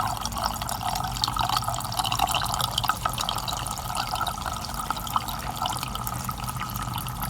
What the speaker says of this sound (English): I just unscrew the pipe and that'll suck it all out